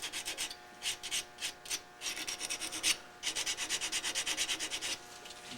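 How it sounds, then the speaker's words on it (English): A small wooden ornament is being hand sanded with 150 grit sandpaper, giving close, steady back-and-forth rasping strokes in quick, even rhythm with brief pauses, and no talking. "It doesn't take too much sanding."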